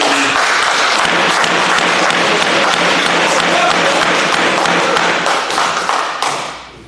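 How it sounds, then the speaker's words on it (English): A crowd at a Shelby County board meeting breaks into loud, sustained applause, dense clapping close and continuous for several seconds before tapering off at the end. "you know not what you clap on"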